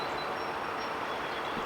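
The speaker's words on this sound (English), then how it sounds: "This is Norfolk Southern Train 12R" A Norfolk Southern freight train on the Pittsburgh Line near the Rockville Bridge rolls past as a steady, broad rumble with a wheel hiss. The sound stays at an even, moderate level throughout and there is no talk.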